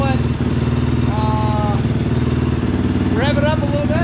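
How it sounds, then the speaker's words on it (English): A Honda CRF450R motorcycle engine idles steadily and loudly close by with a dense, even rumble. Faint pitched whines sound briefly over it, and a voice is present in the mix. "I'm gonna let it idle up here"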